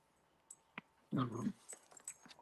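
A puppy whimpers in a short high yelp-like burst among faint squeaks, quiet and close, with no talking.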